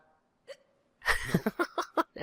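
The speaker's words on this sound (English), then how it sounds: "Hiccups are too cute." A character in the video game Mass Effect Andromeda hiccups, a small gulp followed by a run of quick, close, rhythmic hiccup bursts mixed with giggly breathing.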